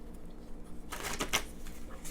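Tarot cards being shuffled by hand: a short, crisp burst of riffling flutter that flares up briefly and then settles back into near quiet.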